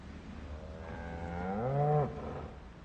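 A cow moos once in the survival game Project Zomboid, a single drawn-out low call that rises in pitch and then cuts off, heard close and alone against quiet background noise.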